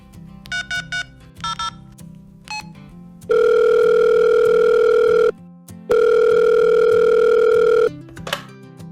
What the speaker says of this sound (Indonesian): lama banget angkat teleponnya